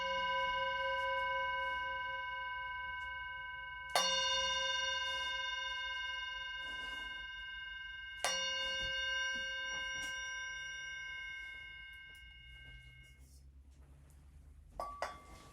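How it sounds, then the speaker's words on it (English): A meditation bell in a quiet classroom rings three times, each strike a clear bright tone left to ring out and fade slowly, spaced about four seconds apart, with a faint rustle near the end. "now you're going to hear a bell ring 3 times"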